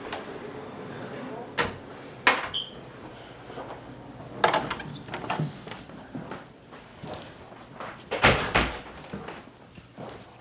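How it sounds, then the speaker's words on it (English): Several doors shut indoors in sharp, separate thuds and bangs, some loud and close, scattered over about ten seconds with shuffling and faint room noise between them and no talking. "can you close that door?"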